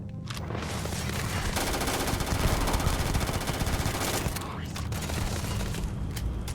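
Rapid automatic fire from the Maelstrom gun in the space game Starfield, a dense sustained burst of loud shots lasting several seconds with a short pause and another burst near the end.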